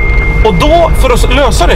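A mobile phone alarm sounds as a thin, steady beeping tone that runs through the whole moment, mostly buried beneath close conversation between people.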